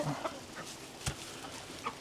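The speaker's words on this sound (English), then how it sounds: "The rooster right there" Rooster in a backyard chicken coop, giving a few soft clucks, one sharper sound near the middle, faint and close, with no talking.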